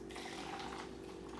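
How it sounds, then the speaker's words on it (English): A soft, steady stream of pineapple coconut juice pours into a mixed drink, a continuous quiet liquid trickle lasting about a second and a half. "Then we are going to almost top this off with the pineapple coconut juice"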